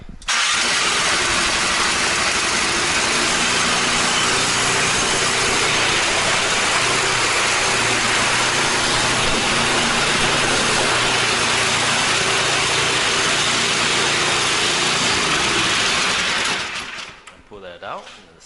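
A Troy-Bilt Squall 21-inch 208 cc single-stage gas snow blower with electric start cranks and fires, then runs loud and steady for about sixteen seconds before shutting off.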